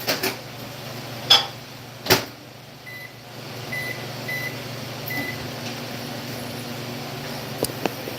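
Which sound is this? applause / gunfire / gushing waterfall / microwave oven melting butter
microwave oven melting butter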